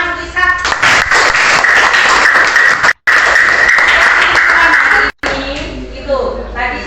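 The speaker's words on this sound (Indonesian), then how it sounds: "Tepuk tangan untuk Isak" Classroom applause for a student, a dense burst of clapping filling most of the stretch with two brief gaps, loud and close, fading into lighter scattered claps at the end.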